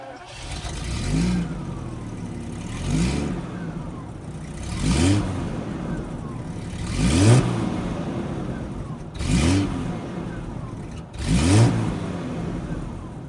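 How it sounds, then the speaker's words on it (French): A Jaguar V12 engine in a Jaguar XJ12 Daimler saloon revs repeatedly, about six rising bursts every two seconds, loud and close, with a deep throaty growl between surges. "Écoutez-moi le son de ce magnifique V12 Jaguar."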